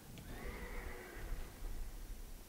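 A horse neighs in the video game Dark Souls 2, a drawn-out whinny over a low rumbling game ambience, moderately faint and heard alone.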